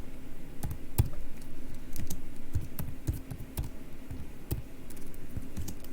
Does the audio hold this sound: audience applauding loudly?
no